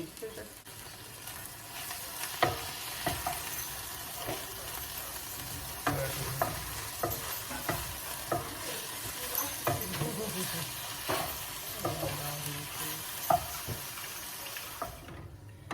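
Vegetables and garlic softening in a pan, a soft continuous sizzle with frequent clicks and scrapes of stirring, faint background noise and a low voice at times.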